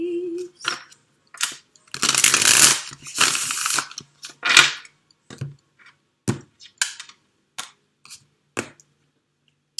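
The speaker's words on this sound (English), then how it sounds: "Just to shuffle these." Tarot cards being shuffled by hand: a series of short crisp riffling bursts and scattered card taps, separated by brief pauses, close and fairly quiet.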